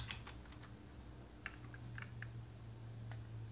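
Quiet typing on a computer keyboard, a scattered run of soft key clicks and taps over a low steady hum, with no talking.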